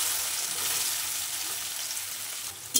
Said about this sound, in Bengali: কড়াইতে সাদা তেল গরম করে নেব, ভালোভাবে নিয়ে সয়াবিনগুলো ভাজতে দিয়ে দেব।